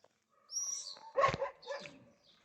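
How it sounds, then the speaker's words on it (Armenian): Dogs bark somewhere off at a distance outdoors, a few short bursts rising over a quiet background, with faint bird chirps around them. "Այն կողմից էլի հաչոցներ են, որոնք ոչ մի լավ բան չեն խոստանում։"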